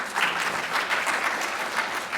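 Steady applause from an audience at a clinical education event, a moderate wash of many hands clapping for a couple of seconds with slight swells, no speech over it.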